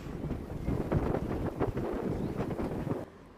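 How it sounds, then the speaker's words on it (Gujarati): Heavy wind with rain over Jamnagar city, heard as a loud, steady buffeting roar across the microphone with no voices, cutting off abruptly near the end. "જામનગર શહેરમાં ભારે પવન સાથે વરસાદ વરસ્યો છે"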